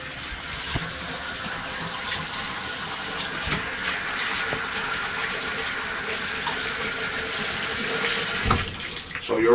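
Tap water runs steadily into a sink as aquarium filter pieces are rinsed under it, a close and continuous gushing with faint handling clatter through it.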